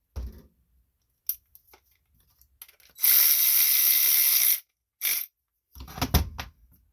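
Bolt on the carburetor bowl of a Toro push mower being tightened by hand tool, a sustained grinding ratchet-like burst of about one and a half seconds followed by a short second burst and a few clanks, with light handling clicks before it.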